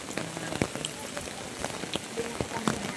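Rain patters steadily on surfaces during a hike up Mount Mariglem, a constant light hiss broken by scattered sharper drops, close by and moderately quiet, with no talk over it.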